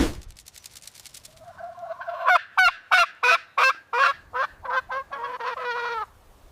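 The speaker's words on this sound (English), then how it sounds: "It's a turkey." A turkey gobbles up close, a rapid, loud, rattling series of throaty pulses that speeds up, then ends in a sustained warbling note.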